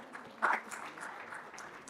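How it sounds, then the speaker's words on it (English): A conference audience gives a modest round of applause at a national management day event; the clapping is soft and somewhat distant, with a brief louder swell near the start before settling into a thin, steady patter. "Round of applause."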